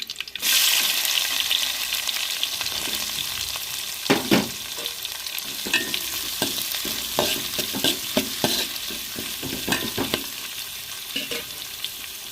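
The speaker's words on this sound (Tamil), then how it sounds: "வெட்டி வச்ச வெங்காயத்தையும் சேர்த்துக்கிறோம்" Chopped onions fry in a pan, a steady, close sizzle broken by repeated scraping and tossing strokes of a spoon as they are stirred.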